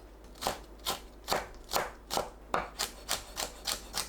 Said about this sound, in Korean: 청양고추와 홍고추도 작은 크기로 썰어주세요.